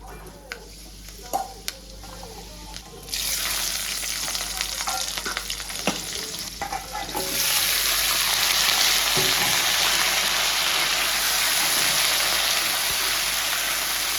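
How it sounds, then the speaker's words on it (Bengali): Fenugreek seeds and green chilies hit hot oil, starting with a few sparse crackles, then a loud sizzle that jumps, and near the end a fuller roaring hiss as more goes in, close and steady. "মেথি আর কাঁচা লঙ্কা ফোড়নে দেবো"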